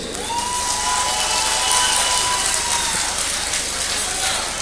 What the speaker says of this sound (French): Applaudissez très fort pour honorable Selou Baldé.